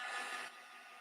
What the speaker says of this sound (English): Let's use some heat gun.